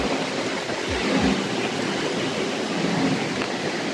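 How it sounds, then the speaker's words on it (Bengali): Continuous rain with storm-like wind outdoors, a dense steady wash of noise with low rumbling gusts, unbroken and fairly loud throughout. "এটা তো এখনো বৃষ্টি হয়ে যাচ্ছে কাল থেকে, অনবরত বৃষ্টি হচ্ছে"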